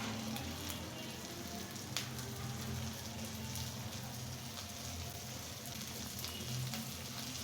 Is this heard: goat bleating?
no